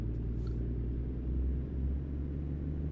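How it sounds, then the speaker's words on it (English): A truck's low, steady engine rumble drones continuously, deep and throaty, with no voices over it. "Truck sounds nice. It does. It's got that lovely deep throaty"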